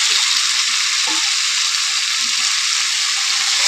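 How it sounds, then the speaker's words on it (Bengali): Lemon pieces for a pickle fry in a hot pan, a steady broadband sizzle running throughout with a few soft scrapes and knocks of stirring, close and fairly loud, no voices. "এবারে কিছুক্ষণ আমি নেড়ে চেড়ে ভালো করে ভেজে নেবো"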